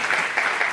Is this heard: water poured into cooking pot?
no